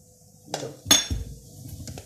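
A utensil clinks and scrapes against a pan while gram flour is stirred in oil for chicken nihari, a few sharp metallic knocks over a faint quiet background.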